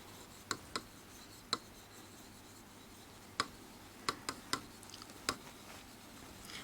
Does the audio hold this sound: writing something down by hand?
yes